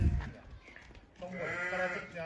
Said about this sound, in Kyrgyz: Мынау кой.